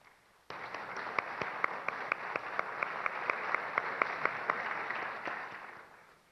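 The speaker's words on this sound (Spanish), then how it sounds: "les pido un aplauso, por favor" An audience at a Guatemalan business council presidential candidates' debate claps steadily for several seconds, a dense even patter that starts abruptly and tapers off at the end.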